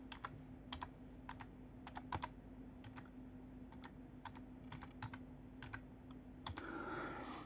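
Keys on a computer keyboard tapped while entering a password for Linux backup software, the strokes coming in quick irregular bursts of light clicks, faint against a low steady hum, ending in a brief rustling swell.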